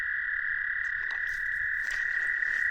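Spring peeper frogs calling from a wetland, a dense continuous high-pitched shrill chorus holding steady and fairly loud, with faint rustling beneath.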